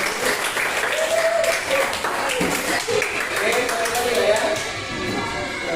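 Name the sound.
classroom applause for a student group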